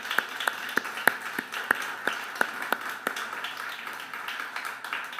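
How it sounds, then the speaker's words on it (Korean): A church congregation claps in a sparse, fairly distant patter with distinct individual claps roughly every third of a second, fading and thinning toward the end. "우리의 기도를 응답하시는 주님께 큰 박수로 영광을 돌립시다"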